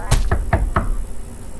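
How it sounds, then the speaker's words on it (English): Four quick knocks on a door in the horror video game Tattletail, sharp and close, evenly spaced within the first second, then only quiet room tone. "Knock on mom's door."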